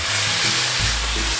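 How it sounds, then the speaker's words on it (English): Peking duck pieces laid skin side down into a hot pan, giving a loud, continuous hiss and sizzle of frying fat with a low hum beneath, no talking. "in we go, skin side down, and a nice sizzle"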